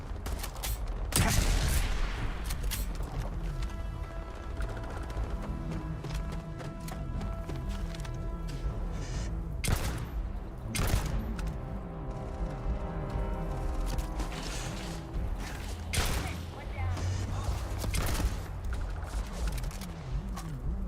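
Gunfire during a Starfield helicopter fight: sharp shots and bursts of fire crack repeatedly over a steady low rumble of battle noise for about twenty seconds.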